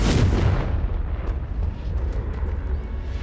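A Confringo fire spell explodes in the game Hogwarts Legacy on the Nintendo Switch. A loud, deep burst opens and then fades into a long rumbling tail, with faint crackles trailing off.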